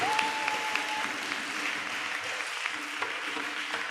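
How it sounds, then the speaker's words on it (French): A church congregation breaks into sustained applause, a dense and even wash of clapping from many hands that carries on the whole time, with a faint sung tone at the start. "Acclame Jésus très"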